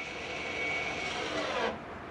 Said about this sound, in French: on entend le moteur qui tourne